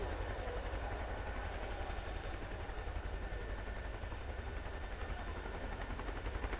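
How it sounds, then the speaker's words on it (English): An RAF Chinook HC.6 twin-rotor helicopter climbing into a hover at an air show, a loud, steady rotor thump and engine roar that holds unbroken throughout. "As the aircraft gently corkscrew climbs into the hover"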